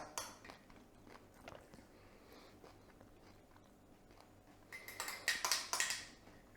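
Crunchy wheat biscuit breakfast cereal being eaten, soft chewing at first, then a run of louder, close crunching bites near the end.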